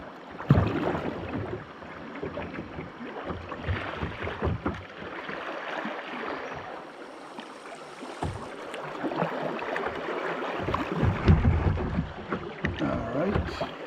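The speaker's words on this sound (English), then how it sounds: "I don't know how easy it's going to be to paddle through." A boat paddled along a foggy river, heard as close, steady water swishes and splashes from paddle strokes over a low rumble of wind, with no voices.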